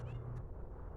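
One short meow from a cat outdoors, near and clear, over low background rumble.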